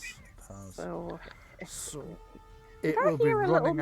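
A pet cat meows a few times, short plaintive calls heard close by, interleaved with people talking.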